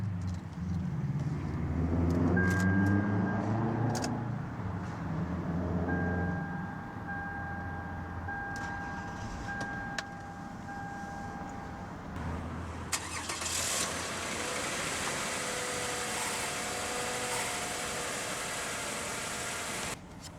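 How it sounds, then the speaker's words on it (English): A 2012 Toyota Avalon sedan's engine cranks and fires up, then settles into a steady idle hum that continues without speech. "let's go ahead and start the engine"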